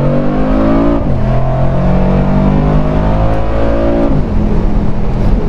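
A 2019 Mercedes-AMG G63 engine accelerating hard from inside the cabin, a loud rising engine drone through two gear shifts, steady and close with no talk.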